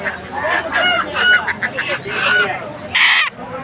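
Native chickens at a crowded poultry market cluck loudly and repeatedly close by, with a sharp crow near the end, over a steady market hubbub.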